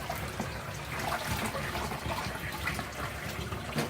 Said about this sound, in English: We're gonna turn it over to the drain.